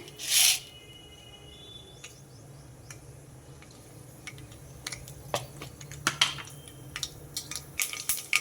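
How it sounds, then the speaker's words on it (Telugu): Mustard seeds splutter in hot oil in a heated kadai for a broad bean and onion curry, with sparse crackles and pops that grow busier toward the end over a low sizzle; one loud burst near the start. "ఆవాలు చిటపట్లాడాయి"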